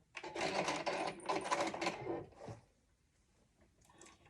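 A sewing machine whirs in a short, close burst of about two seconds, then stops and leaves quiet with faint clicks.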